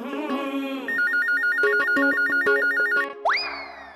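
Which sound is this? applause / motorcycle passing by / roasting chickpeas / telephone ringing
telephone ringing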